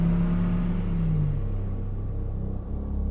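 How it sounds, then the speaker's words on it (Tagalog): A car engine rumbles steadily with a low whirring hum that slowly fades as the vehicle pulls away, continuous with no voices. "Agad pinaandar nitong si Totep ang kanilang sasakyan"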